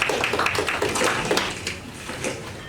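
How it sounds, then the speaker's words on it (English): Applause from an audience at a tech pitching and networking event: a burst of many hands clapping, loud at first, then thinning and fading into scattered claps. "and a round of applause for them."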